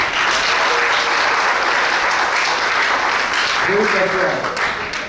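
Strong, steady applause from guests at a civil wedding ceremony as a couple is honoured, a dense sustained clapping lasting several seconds with a voice briefly rising over it near the end.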